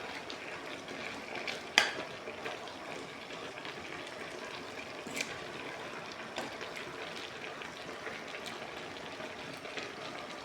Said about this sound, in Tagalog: Cabbage, ginisang cabbage, tapos ang halo, dilis na tuyo.